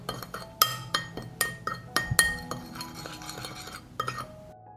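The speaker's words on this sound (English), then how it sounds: "I will stir." Ground coriander and red pepper being stirred into meat in a pot, a quick run of sharp metallic clinks and taps of a utensil against the pot, close and fairly loud, with no talk.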